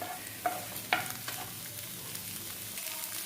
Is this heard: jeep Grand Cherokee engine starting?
no